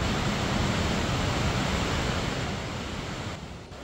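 Water released from the Bustos Dam spillway rushes as a loud, steady broadband roar, fading slightly toward the end.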